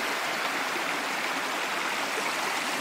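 Mountain stream water near Brazeau Lake in Jasper rushes steadily and close by, a dense, unbroken hiss and gurgle with no voices over it.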